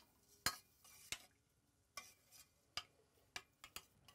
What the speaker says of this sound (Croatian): Dobro promješamo.